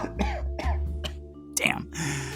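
A voice imitates a series of harsh, throaty coughs, several rough bursts in quick succession ending with a rasping clear of the throat.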